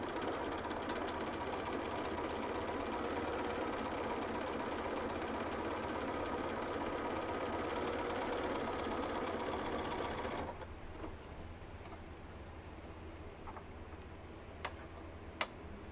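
A sewing machine runs continuously with a steady, ticking whir as it sews fabric for a ruffled-edge blanket, then stops, leaving quiet handling noises and a couple of faint clicks.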